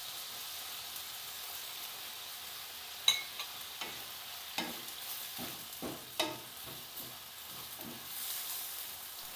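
Squid adobo with dark soy sauce sizzles softly in a pan while a utensil stirs it, giving a faint steady frying hiss broken by a series of light scraping taps.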